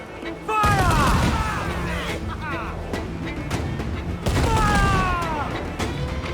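Ship cannons firing in Assassin's Creed 4 Black Flag during a naval battle, two heavy booming volleys a few seconds apart with crackling debris and whistling shot, under shouted orders and background combat noise.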